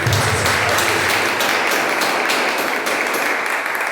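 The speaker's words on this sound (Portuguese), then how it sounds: "Uma salva de palmas para Jesus." A church congregation gives a sustained round of applause to Jesus during a Portuguese-language service, steady dense clapping filling the room at an even level throughout without talk.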